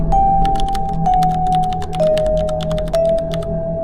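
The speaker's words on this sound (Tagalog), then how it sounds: "narinig niya ang tunog ng keyboard sa bandang dulo" Rapid, steady clicking of a computer keyboard being typed on, close and continuous, over a constant electronic hum with a faint tonal whine in a computer shop.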